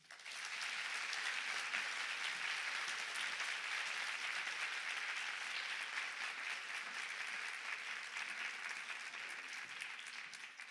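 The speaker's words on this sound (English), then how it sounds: "Maybe we can give her another big round of applause for her closing remarks" A conference audience applauds after a speech, with steady, dense clapping from many hands that holds evenly for about ten seconds with no voices over it.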